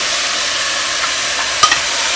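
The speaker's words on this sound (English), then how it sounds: "You just added beef chunk, half-pound beef chunk into the pan." Half a pound of beef chunks hitting a hot pan of chili ingredients, a continuous loud hiss of frying with light stirring scrapes and a few sharper pops near the end, no voices.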